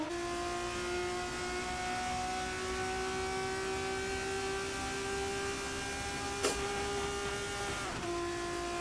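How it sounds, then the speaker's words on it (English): A racing car's engine in a sim racing esports game drones at a steady high pitch along a straight, with a brief bump as the car bottoms out and a quick shift in tone near the end. "You can hear that car just bottoming out as it bounces on the straight towards the 30."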